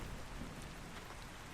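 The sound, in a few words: rain falling in a video game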